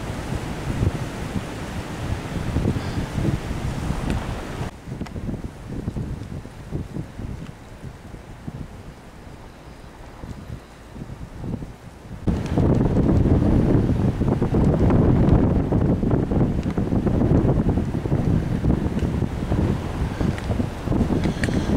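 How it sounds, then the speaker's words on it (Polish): Strong wind buffets a handheld camera's microphone in a loud, rumbling roar, easing for a stretch and then surging back even harder in heavy gusts. "Jest taki wiatr, że ciężko jest kamerę utrzymać."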